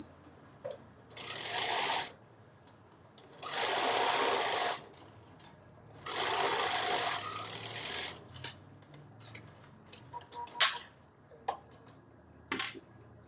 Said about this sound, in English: So I'm gonna show you how to sew the remaining binding.